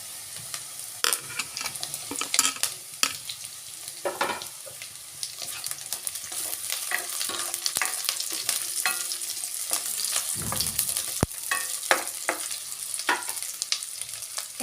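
Onion, potato and green chilli stir-fry in a pan for a radish dish, with a steady hiss of oil broken by repeated scraping clinks of a spatula stirring.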